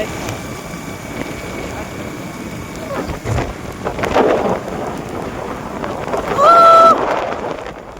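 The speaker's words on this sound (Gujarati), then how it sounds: "એક નંબર વરસાદ પડી ગયો છે." Steady heavy rain hisses throughout, with a low rumble of thunder swelling in the middle, and a brief electronic tone near the end.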